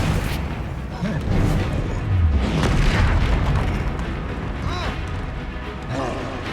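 A Bombarda blasting spell detonates in Hogwarts Legacy, a deep booming explosion rolling through a loud, dense battle mix with music and effects, sustained over several seconds.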